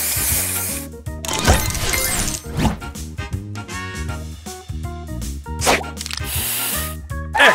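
Match Masters spray booster effect: bright hissing sprays and shattering chimes over looping game music, several bursts in a row with notes continuing throughout.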